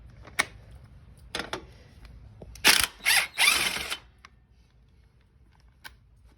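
A 13 mm wrench works the torque link bolt on a 1983 Honda Shadow 750, giving a few sharp metallic clicks followed by three short bursts of ratcheting, close and clear against a quiet background.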